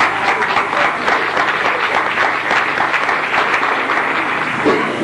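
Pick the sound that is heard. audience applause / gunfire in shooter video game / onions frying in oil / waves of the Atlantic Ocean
audience applause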